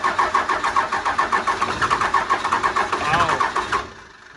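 A 12-valve diesel truck engine cranks over on the starter with a quick, even chugging rhythm, close and loud, for several seconds before it cuts out without firing.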